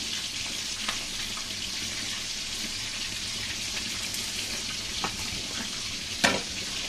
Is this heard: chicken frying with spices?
yes